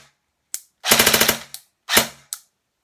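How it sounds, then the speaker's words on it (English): An Avengers BAMF M4 airsoft AEG rifle with a micro switch trigger cycles nearby in a few sharp, snappy mechanical shots, including one quick rattling string of rapid cycles, with silent gaps between them. "I'm going to go ahead and show you guys the cycling of the gun"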